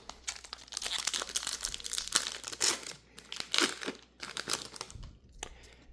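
Plastic card sleeve crinkling and rustling as a Flesh and Blood trading card is slid into it, close and crisp, a few seconds of soft handling noise with no talk.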